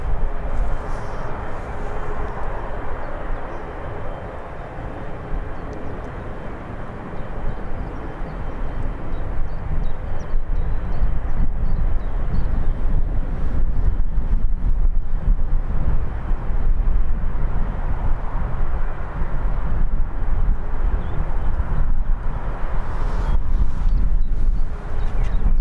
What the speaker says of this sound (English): Watch the Ryanair depart.